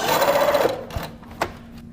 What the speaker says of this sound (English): we'll just need to pivot and sew off the edge